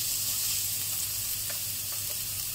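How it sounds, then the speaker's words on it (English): Garlic sizzles in a hot pan of leftover oil after frying seabass, a steady close hiss with a few faint stirring ticks. "drain off the oil and then add in the garlic."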